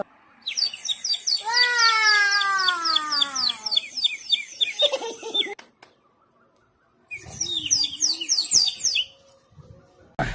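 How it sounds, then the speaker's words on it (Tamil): Warbling, bubbly bird-like trills rise and fall in two long runs separated by a brief quiet gap, from a water bird whistle toy being blown. "இப்போ இதுல ஊதுனா சத்தம் குருவி சத்தம் கேட்கும்."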